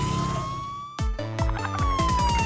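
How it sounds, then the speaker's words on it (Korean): A cartoon ambulance siren wails in a steady, gliding tone for about a second before a bouncy children's song with bright musical notes comes in over it. "구급차가 달려요."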